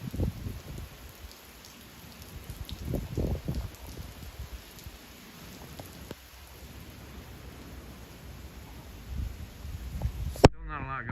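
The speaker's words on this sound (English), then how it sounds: "It's like I say, the rain has increased." Steady rain falling in Sarasota, Florida during Hurricane Idalia, a continuous soft hiss of drops with occasional louder patters, heard alone before cutting off abruptly near the end.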